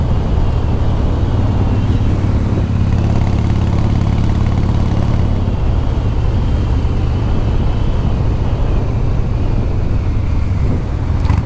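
A 1982 Harley Davidson FXR Shovelhead five-speed motorcycle engine runs loud and steady, a low rumbling drone with wind noise, as if heard while riding, with no voices.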